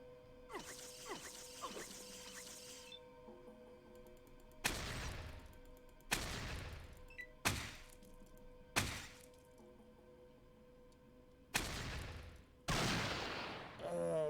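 Gunfire in the Fallout video game, several loud sharp bursts with ringing tails spaced a second or two apart, heard over a quiet game background hum.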